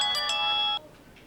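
A mobile phone ringtone rings as a bright, repeating electronic melody for most of the clip, fairly close and loud, then cuts off abruptly, leaving only faint room noise.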